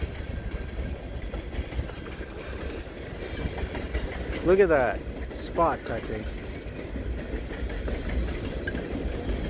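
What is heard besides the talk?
CP mixed freight train passing at night in winter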